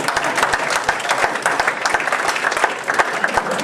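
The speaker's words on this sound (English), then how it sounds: "Would you give him a round of applause?" An audience claps steadily through a round of applause at an event honoring a former state police officer named Tim, dense clapping with a few sharper individual claps standing out, loud and continuous for the whole stretch.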